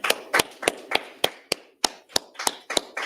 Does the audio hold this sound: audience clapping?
yes